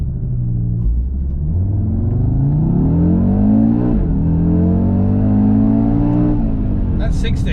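A 2020 Audi RS Q3 Sportback launching from a standstill, its engine note climbing through rising revs with gear-change dips, loud and close, a brief voice heard near the end.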